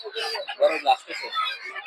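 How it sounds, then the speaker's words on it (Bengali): Native desi chickens cluck amid the busy bustle of a rural village market in Golakandail, with overlapping bird calls and crowd voices blending throughout. "হচ্ছে খামার উপযোগী দেশি মুরগি"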